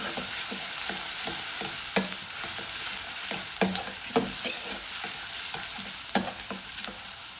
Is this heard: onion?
yes